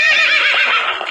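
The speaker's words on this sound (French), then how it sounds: "le cheval qui crie." Horse in a video game neighs loudly in one bright, wavering whinny lasting about a second, close and alone.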